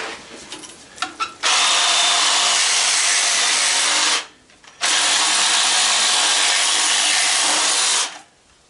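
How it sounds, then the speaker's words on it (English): Battery-powered reciprocating saw cutting into a sealed refrigeration unit, two long loud continuous bursts of steady buzzing with a brief pause between, after a few light handling knocks at the start. "May throw a blade in the sawzall on a battery."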